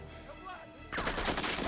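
A loud burst of gunfire erupts halfway through a Prison Break episode, following a quieter stretch with voices, and continues as a rapid volley.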